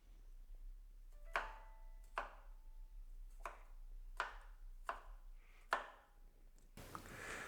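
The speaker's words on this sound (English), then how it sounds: "I want to give these grapes a rough chop and then get them into our straining bags" Knife chopping grapes on a board for natural-fermentation grape juice wine, six or seven sharp separate thuds at an uneven slow pace, fairly close, with no talk and a burst of broadband noise at the end.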